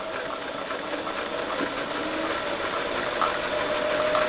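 A sewing machine runs steadily while stitching a 5/8 inch fabric seam with a back tack, a close, continuous mechanical whir and rattle with no pause.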